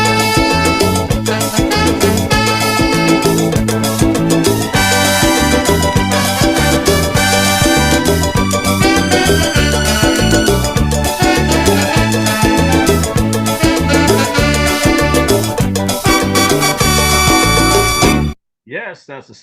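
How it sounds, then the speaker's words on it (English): A soca recording by the artist Arrow plays loud and full for about eighteen seconds, with a steady driving beat and layered brass and melody, before cutting off abruptly near the end. "that's the sound of the late great the man King Arrow"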